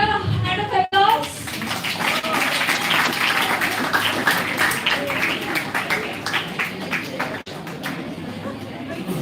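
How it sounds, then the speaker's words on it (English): Audience applause at an anniversary event prize-giving, a steady wash of many hands clapping at moderate distance, with some voices mixed in. "Can we hear a hand of applause?"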